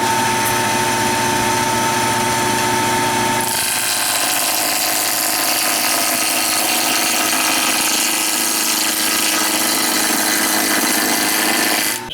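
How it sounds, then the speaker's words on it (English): A wood lathe spins a glued-up segmented block, the middle piece joining four legs of an open-segment turned lamp, with a steady loud motor whine and tool hiss that rises in intensity partway through and continues unbroken. "Just finishing up turning this middle part."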